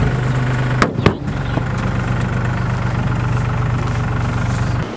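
A Honda K24A2 four-cylinder in an all-wheel-drive CRX rally build runs steadily at idle close by, a loud, even low rumble with a brief blip near the start.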